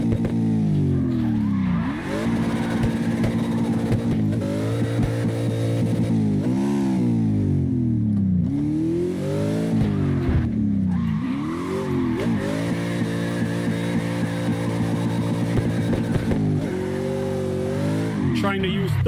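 An all-wheel-drive car drifts in CarX Drift Racing Online, its engine revving hard in repeated rising and falling sweeps with tire squeal, loud and continuous, while someone talks over it.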